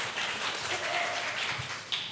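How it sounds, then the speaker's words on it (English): Audience applause at a policy talk session, a steady wash of many hands clapping for about two seconds in a mid-sized room. "Next, a round of applause,"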